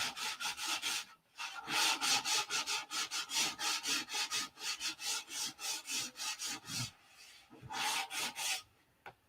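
Hand sanding on a P-47 scale model, a steady back-and-forth rasping of abrasive on the part, close and fairly loud, in rhythmic strokes with a couple of brief pauses and no talking.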